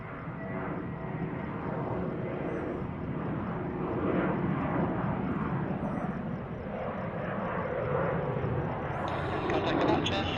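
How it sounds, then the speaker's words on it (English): A fixed-wing airliner takes off from runway 35 at Sydney Airport, a broad steady engine roar with turbulent rushing noise, constant and fairly distant, with faint radio chatter in the background. "runway 35, cleared for takeoff."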